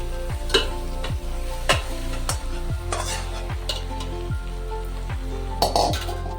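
Mutton marinated with garlic, coriander, turmeric and salt sautéing with onions in a pan, a steady close sizzle broken by repeated scraping stirs and light metallic clinks.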